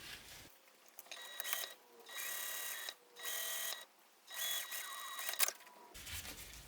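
Waterproof canvas is stitched to zipper tape on a sewing machine, heard as several separate bursts of loud motor whirring with brief pauses between runs.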